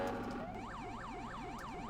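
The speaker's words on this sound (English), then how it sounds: "Stage 3, turn the siren on." An emergency vehicle siren, set from an A.S.P. emergency panel on a heavy hauler, wails in smooth, regular rising and falling sweeps, about five cycles, fairly faint and alone.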